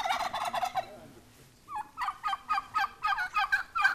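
Turkeys in a village yard gobble in rapid rattling bursts, one volley, a brief pause, then a longer run of repeated gobbles, close and fairly loud with no talk over them.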